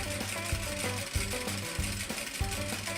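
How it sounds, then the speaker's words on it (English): A sewing machine stitches a back tack through pinned fabric, its needle clattering in a fast, steady mechanical rhythm with short bursts and brief pauses as it reverses, close and fairly loud with no talking. "And then do our back tack and sew, pulling out the pins as we go."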